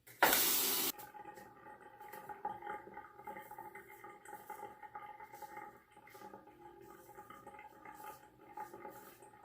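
Running water from a tap rinses a Fatip Piccolo safety razor at a bathroom sink, a brief loud gush at the start followed by quieter splashing and trickling close by.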